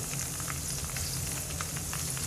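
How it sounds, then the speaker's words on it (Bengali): Chopped green chilies fry gently in a pan over low heat, giving a soft, continuous sizzle with faint crackles and light stirring, steady and close. "কেটে নেওয়া কাঁচামরিচ চুলা কম তাপে রেখেই ভেজে নিতে হবে"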